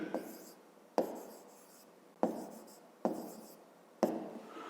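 Handwriting on paper for a fifth-grade maths exercise, a close, quiet scratching that comes in five distinct bursts about a second apart, each fading before the next stroke begins.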